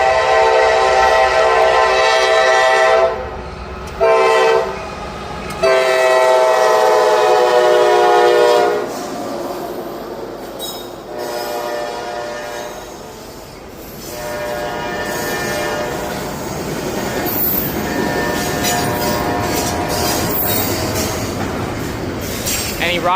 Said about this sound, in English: Oh, I hear it coming. Here it comes.